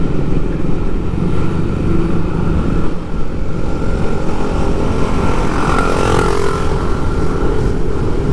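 A motorcycle engine drones continuously during a ride, loud and close, with steady road and wind noise and a slight rise in pitch partway through.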